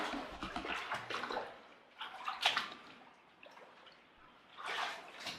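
Water dripping and trickling inside a cave, irregular splashes and watery bursts echoing at moderate loudness, with quiet gaps between.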